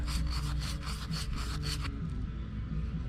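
Rapid back-and-forth scrubbing of rust inside the radiator filler neck of a Nissan Frontier, about ten quick rasping strokes up close, then the scrubbing stops against a low background hum.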